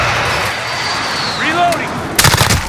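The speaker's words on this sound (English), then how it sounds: "Friendly precision airstrike on the way." Precision airstrike in the video game Call of Duty: swooping, falling whistles sweep overhead, then a cluster of loud, sharp blasts bursts in rapid succession near the end.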